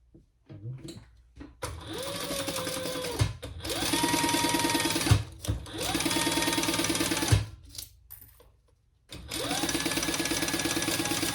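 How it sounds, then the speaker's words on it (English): A sewing machine joins fabric pieces of a crossbody bag in several loud, close bursts of rapid mechanical stitching, with short pauses between runs and a rising whine as each run speeds up. "we're going to sew that together"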